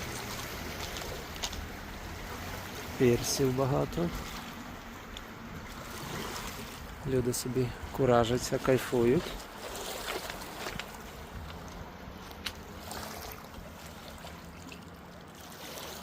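Motorboats hum on Lake Tahoe, California, under steady water and engine noise, while people talk nearby in short bursts.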